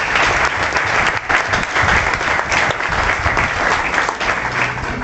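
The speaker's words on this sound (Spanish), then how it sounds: "También les pido un fuerte aplauso." Strong audience applause at a talk on Afro-Mexican history, dense sustained clapping from a full room, loud and continuous for about five seconds without a break.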